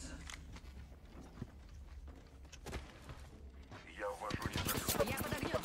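Gunfire in the shooter game Apex Legends: quiet distant shots at first, then a dense rapid burst of automatic fire toward the end, with a player talking over it.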